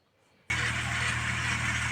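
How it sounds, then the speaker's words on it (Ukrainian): A tractor engine suddenly comes on after near silence and holds a steady, loud, close mechanical drone with a low throbbing hum for about a second and a half, with no voices. "Ой, трактор, трактор."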